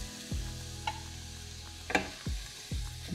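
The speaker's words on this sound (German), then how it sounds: "Jetzt, wo die Zwiebel glasig ist, gebe ich dann den Reis" Rice fries with glassy, translucent onions in a pan, a soft continuous sizzle broken by several low thumps and scrapes as it is stirred, close and fairly quiet.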